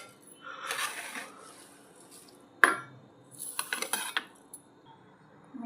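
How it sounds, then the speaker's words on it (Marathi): Roasted dry ingredients for a spicy niger-seed (khurasani) chutney tipped into a mixer grinder jar, giving a few scattered clinks and rattles of spoon and metal, with one sharp knock partway through; no voices. "चला आता हे थंड झालेलं आहे, हे आपण मिक्सरमध्ये टाकून घेणार आहोत"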